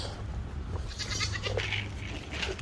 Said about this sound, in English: And last but certainly not least are the goats.